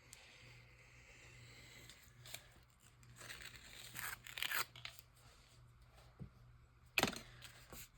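Scissors snip through paper crafting material for a junk journal, faint close crinkling and a few scattered sharp cuts, with one louder snip near the end.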